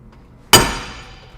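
A hammer strikes a big steel punch to drive a bearing race out of a Ford 8.8 rear axle: one sharp, close metallic blow with a ringing decay that fades over about a second.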